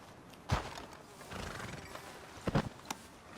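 A horse in Red Dead Redemption 2 snorting and whinnying near a sheriff's office, with a few heavy hoof thuds and a brief louder burst near the end, fairly quiet over a soft background.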